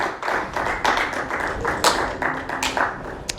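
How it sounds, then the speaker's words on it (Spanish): A church congregation applauds continuously, a dense wash of many hands clapping at once, loud and steady with a few sharper claps standing out. "démosle un aplauso al Señor Jesucristo"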